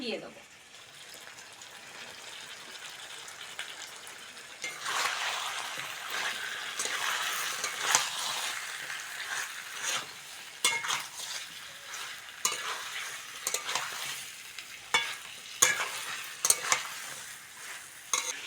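Chicken lightly fried then stirred with capsicum, tomato and green chili in a pan, giving a steady close sizzle with scraping stir strokes and clatter from about five seconds on, no talking.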